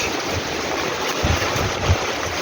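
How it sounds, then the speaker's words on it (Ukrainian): Steady rain falls in the village of Kustivtsi in Khmelnytskyi Oblast, Ukraine, a dense, continuous hiss of drops with occasional soft thumps, close and even in loudness throughout. "Нарешті довгожданий дощ на Хмельниччині."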